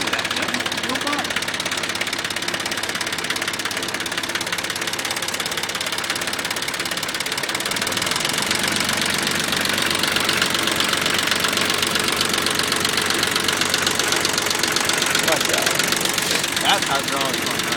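A small red tractor's diesel engine runs at a steady idle throughout, a continuous mid-pitched knocking rumble heard close up, with people talking over it.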